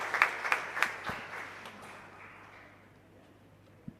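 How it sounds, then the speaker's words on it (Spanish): A few seconds of thin applause from a congregation at a Catholic Mass, a handful of distinct claps at first, then a soft patter that fades away, with one stray knock near the end. "Un fuerte aplauso para la señora Dora"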